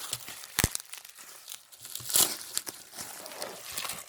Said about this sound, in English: So I'm gonna try to unwrap this.